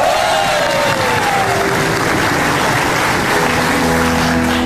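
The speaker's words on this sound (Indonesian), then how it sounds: "Tepuk tangan untuk saya." A television talk-show studio audience applauds loudly and continuously, a dense wash of clapping and crowd noise with music tones sliding in under it.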